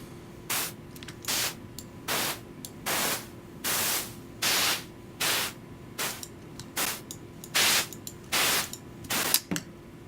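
Synthesized snare from Ableton Operator run through an amp overdrive with LFOs cycling its frequency, tone and dynamics: a steady pattern of about a dozen noisy, distorted hits over a low droning tone, each burst shifting in timbre.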